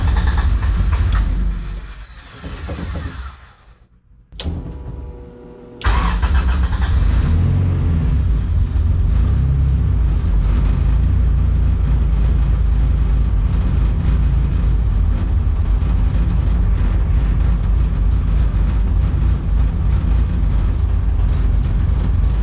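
A high-compression Honda B20 VTEC engine cranks and fires on its first start-up, then settles into a loud, steady rumbling idle that runs on continuously, close up with no talking.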